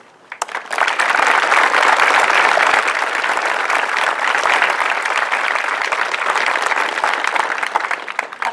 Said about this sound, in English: Please join me with a round of applause thanking them for their service and sacrifices.